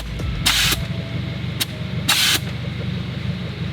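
Air suspension bags on a car's front venting in two loud, hissing bursts of roughly a quarter second each, over a steady low idling engine hum.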